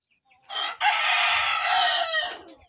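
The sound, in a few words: Micro Sirama Shamo rooster crowing, imported from Malaysia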